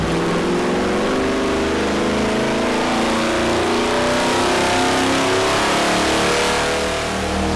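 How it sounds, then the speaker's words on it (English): A naturally aspirated 6.0L LS iron block V8 runs at wide open throttle on a dyno, a loud sustained roar whose pitch climbs steadily through a long pull, heard up close without speech. "we'll go to wide open throttle and not do anything crazy, we're gonna make it pull right there"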